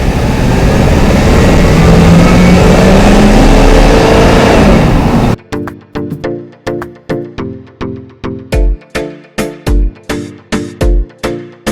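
A lifted Ford E350 van's engine under the doghouse cover gives a steady loud roar at first, then shifts to a rhythmic, pulsing series of sharp mechanical bursts, close to the microphone.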